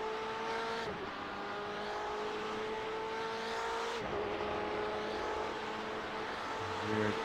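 Onboard race car at night, engine droning steadily with a sustained pitch that dips and recovers as it brakes and powers through a tight hairpin, loud and close throughout with a brief scrub near the end.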